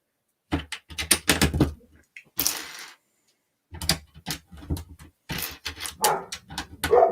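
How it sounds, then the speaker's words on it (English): A house dog barks in sharp bursts close by, a cluster of barks, a pause, then several more with a whimper-like edge, alone without talk. "Oh, there goes my dog."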